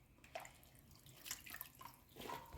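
A little water is poured into a cup holding bread to soften it, given in a few faint, brief splashing bursts in a quiet home kitchen.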